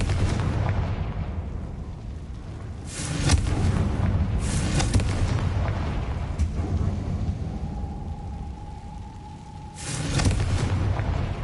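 The Confringo explosive spell goes off in Hogwarts Legacy, heavy booming blasts rumbling like thunder at intervals over a low continuous roar, loud and close.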